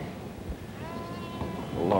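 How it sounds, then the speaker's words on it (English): Sheep bleat in a large flock, with a couple of wavering calls rising over a low background murmur of the herd, moderately distant and growing a little louder toward the end. "large flock of sheep."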